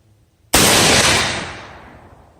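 A single rifle shot fired with Federal Premium match ammunition cracks loudly and close, then its echo trails off over about two seconds.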